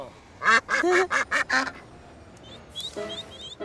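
Ducks at a duck pond give a quick run of five or six loud, nasal quacks close by, then quieter scattered calls and chirps follow.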